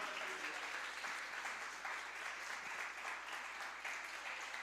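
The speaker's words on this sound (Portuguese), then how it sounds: "Pode dar uma salva de palmas para Deus aí." Congregation applause during a church service: dense, sustained clapping from a crowd, steady and moderately distant for several seconds with no voices over it.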